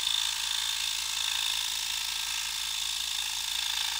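Scroll saw fitted with Pegasus blades cutting 1 inch thick red oak, a steady, fast mechanical buzz with constant rattling reciprocation, close and unbroken throughout.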